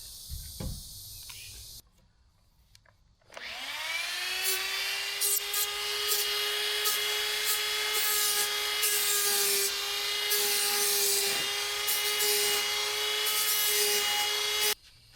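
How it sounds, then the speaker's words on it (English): Small rotary tool fitted with a burr bit carving pink foam for a model mountain range: a high motor whine spins up after a short pause and holds steady, with a raspy cutting texture over it. "this little tool with that burr bit is pretty daggum awesome."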